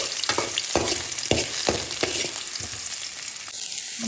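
Garlic sizzles and crackles in hot cooking oil, a loud steady frying hiss broken by sharp spatters and the scrape of stirring.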